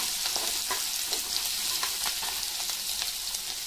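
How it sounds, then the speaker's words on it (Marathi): Ingredients for Rajasthani kadhi sautéing in a hot pan, a steady crackling sizzle with occasional scrapes of stirring, close and continuous with no talk. "व ते चांगले लालसर होईपर्यंत परतून द्यायचे आहे"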